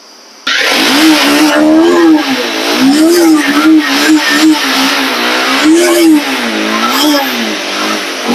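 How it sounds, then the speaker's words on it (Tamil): A Honda CB motorcycle engine catches abruptly and revs repeatedly, its loud, close pitch rising and falling in several throttle blips before settling into a steady idle. "ஹொண்டா சிபியா ஸ்டார்ட் பண்ணிக்கலாம் மேடம்"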